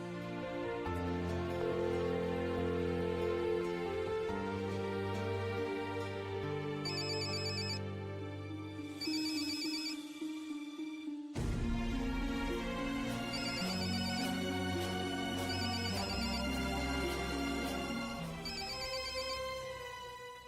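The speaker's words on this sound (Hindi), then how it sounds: "रिंग तो जा रही है, फोन नहीं उठा रही है।" A phone ringtone plays repeatedly, a melodic electronic ring that loops with a brief pause in the middle, ringing on without being answered.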